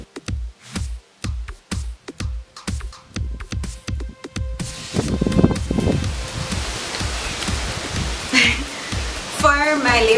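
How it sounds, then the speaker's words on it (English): Gusty outdoor wind buffets the microphone in rhythmic thumps at first, then swells into a continuous loud roaring rush with rumbling bursts, close and dominating. "Oh my god guys, it's so windy."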